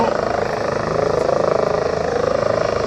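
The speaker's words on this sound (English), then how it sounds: "Helicopter, really low." A helicopter flies low over a lakeside fishing spot, its rotor throbbing in a fast steady pulse that stays loud and close throughout.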